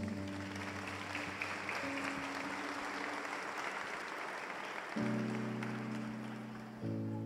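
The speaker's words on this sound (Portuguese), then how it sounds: "Dê um aplauso a Jesus." A church congregation applauds during a worship service, a broad wash of clapping heard over sustained organ or keyboard chords that shift partway through.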